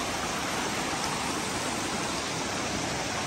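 A river rushes in a steady, loud, unbroken roar along the Langtang trek between Syabru Besi and Lama Hotel in Nepal, with no voices.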